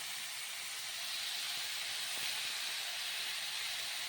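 Chopped tomato and spinach go into a pan of frying onions, giving a steady bright hiss of sizzling that holds evenly throughout without voices.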